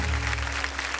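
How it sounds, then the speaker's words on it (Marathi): An audience at a kirtan performance competition in Maharashtra claps loudly and continuously, a dense burst of applause filling the whole second. "पाचारण करूया, जोरदार टाळ्या झाल्या पाहिजे."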